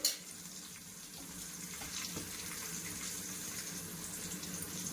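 Water poured into a pot for village-style chicken dum biryani, a continuous faint splashing stream heard close and alone.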